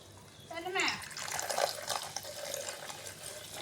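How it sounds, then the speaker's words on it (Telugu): Soda pours and splashes steadily into a container for a few seconds, with a brief voice near the start. "సోడా అయితే దీంట్లో పోసేసుకోవాలి."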